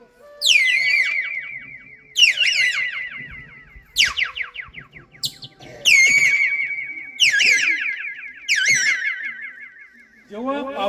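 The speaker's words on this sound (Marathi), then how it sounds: "यानंतर आपल्या समोर येत आहे मोर।" A peacock lets out about six loud, wailing cries in a row, each a sharp rising-then-falling honk spaced a second or two apart and heard clearly on its own.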